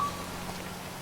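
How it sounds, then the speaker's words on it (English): Steady rain falls in the Grand Theft Auto 5 game world, a soft continuous patter on surfaces, brief and moderately quiet with no talking. "oh, the rain might be clearing up"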